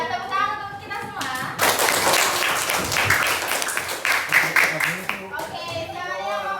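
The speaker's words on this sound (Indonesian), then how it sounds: "Tepuk tangan untuk kita semua." A high school class in Indonesia breaks into applause, dense overlapping clapping from many students lasting several seconds, with a teacher's voice before and after and students chattering under it.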